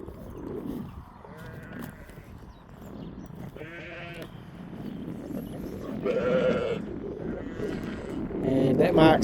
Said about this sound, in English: Paddock full of lambs.